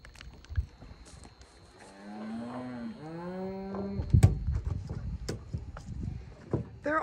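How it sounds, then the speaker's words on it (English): Cattle on a Texas shoreline give a long, drawn-out moo and then a second low call, somewhat distant. Knocks and rustling clatter follow nearby. "All those cows over there are walking over to the other cows."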